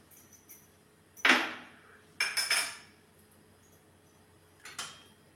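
A kadai set down on a stove as oil goes in for a spicy stuffed brinjal curry: three brief metallic clinks and clatters, spaced apart and fairly quiet, with no talking.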